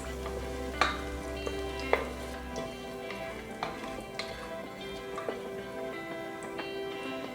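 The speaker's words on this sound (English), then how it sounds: "add a bay leaf and half teaspoon cumin seeds. Saute at low flame for 30 seconds." Bay leaf and cumin seeds sauté in hot oil over a low flame, giving a steady soft sizzle with a few sharp crackles and pops from the seeds near the pan.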